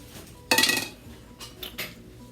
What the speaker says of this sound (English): So if it's a spatula for me, I'm going to scrape this off.